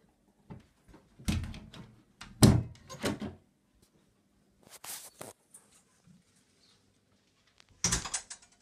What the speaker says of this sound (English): Open my door and go downstairs.